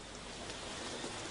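Steady rain falling in the Congo rainforest, a dense even hiss of drops on leaves that fills the whole moment without any voices.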